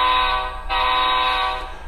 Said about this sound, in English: So we're going to blow our whistle signal.